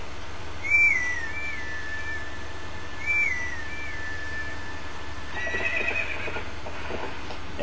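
Epona, a horse in the video game Zelda Twilight Princess, whinnies twice in clear rising-and-falling neighs over a steady ambient game backdrop, followed by faint galloping hoofbeats toward the end.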